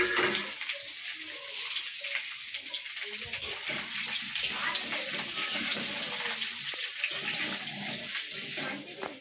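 Jackfruit pieces fry in sunflower oil in a wok with a dense, steady sizzle and crackle, close and fairly loud, with a faint voice beneath.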